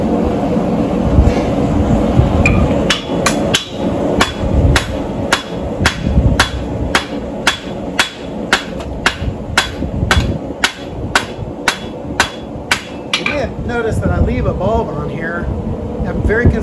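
A blacksmith hammers hot steel bar stock, forging an inch-and-a-half section into a square, octagonal and round taper. Loud, steady hammer blows ring out in a fast, even rhythm over a constant background hum, with the pace briefly loosening near the end.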